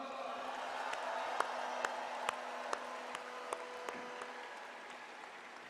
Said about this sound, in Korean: 수고하신 두 분을 위해서 큰 박수 부탁드립니다